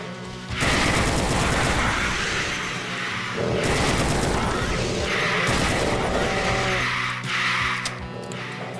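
Gunfire in the video game Brutal Doom 2 comes as loud, sustained bursts of rapid shots separated by brief gaps, with booming impacts and mechanical clatter layered through the action.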